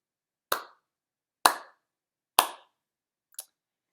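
Hands clap four times in a steady quarter-note beat for a rhythm lesson, close and crisp, each clap sharp and evenly spaced, with the last clap noticeably softer.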